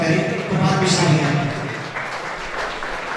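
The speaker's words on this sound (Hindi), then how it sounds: "आप जोरदार तालियों से उनका स्वागत करें।" Audience applause welcoming a guest at the Astitva National Icon Award 2021 ceremony in an auditorium, a steady sustained clapping wash for about three seconds, with some low murmur underneath.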